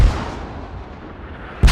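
Mortar rounds in a military video game striking an armored MRAP vehicle, a heavy low boom at the start that decays into a rumbling tail, with a second sharp impact at the very end.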